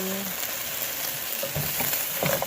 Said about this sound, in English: I'm going to let it cook for a little while